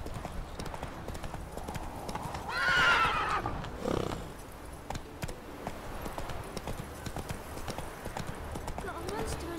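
A horse in the video game The Witcher 3 gallops with rhythmic clip-clopping hooves and lets out a clear whinny partway through, with game voices and ambience in the background.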